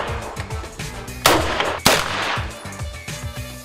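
Handgun fire at an outdoor shooting range in Görbeér, Hungary: two sharp, loud shots about half a second apart ring out over a background of rhythmic, repeating mechanical noise, with no talking.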